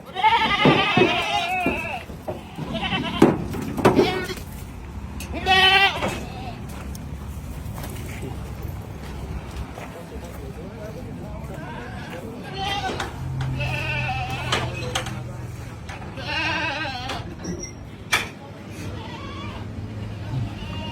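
Billy goats brought in by the pickup-load for a hotel bleat loudly and repeatedly close by, several calls in bursts, while people talk throughout.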